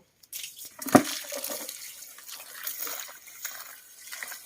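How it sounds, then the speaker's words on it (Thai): Coconut husk fibre is plunged into water, giving a loud splash followed by soft sloshing, dripping and trickling as it settles and soaks, close by with no talk. "เอากากมะพร้าวนี้แช่น้ำกันเลยนะครับ"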